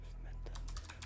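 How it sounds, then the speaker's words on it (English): Quick clattering keystrokes on a computer keyboard, tapped in an irregular run close to the microphone over a low steady hum. "trying to type up something."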